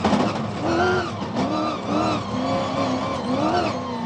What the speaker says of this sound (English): He was followed by teammates Chanel de Villiers and Dennis Murphy in the second Toyota Gazoo Racing SA Hilux